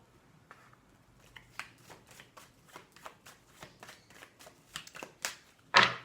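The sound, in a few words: shuffling oracle cards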